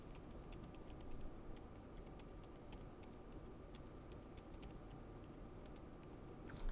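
Quick, steady keystrokes clatter on a computer keyboard as text is entered into an HTML form, a close run of crisp clicks over a low constant hum.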